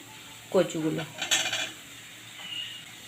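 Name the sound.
fried taro pieces added to the pan of spices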